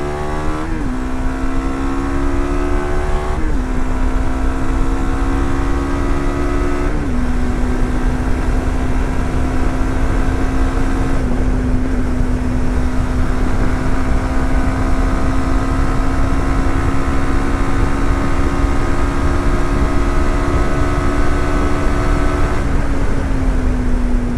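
A TVS Apache RTX 300 motorcycle accelerates hard through several gear changes, its engine note climbing and dropping with each shift, loud and close throughout.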